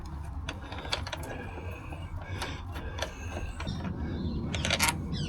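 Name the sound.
ratchet taking out hex bolts on a Vespa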